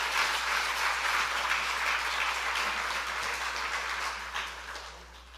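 Sustained applause from a church revival audience welcoming a speaker, dense clapping that holds steady and then fades toward the end.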